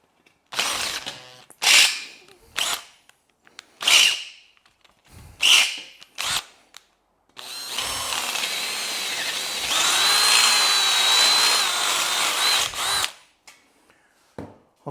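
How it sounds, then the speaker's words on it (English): Power drill enlarging a rivet hole in a bicycle frame, starting with several short grabbing bursts. A longer continuous whining drill run follows, loud and close, with no talking. "the drill bit wants to grab, like you just saw it"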